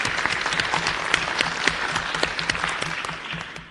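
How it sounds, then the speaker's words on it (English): Audience applause after a film-related talk on drug injection epidemics, a loud, dense crowd clapping with crisp individual claps audible, gradually tapering toward the end. "This applause go to Istvan, who've been really working on this movie since 2009."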